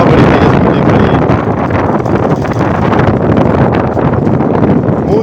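Strong wind blows steadily over a canal in a village, a loud, continuous rushing roar that buffets the microphone throughout, with no break and no voices.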